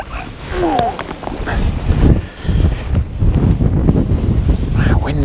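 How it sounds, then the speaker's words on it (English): Strong wind gusting at a fishing lake during a match, roaring steadily into the microphone with loud low buffeting throughout, and a few brief vocal sounds in between. "Strong wind that."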